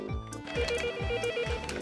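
Office desk telephone ringing in a Korean workplace, a loud electronic ring repeating in quick regular bursts at close range with nothing else over it.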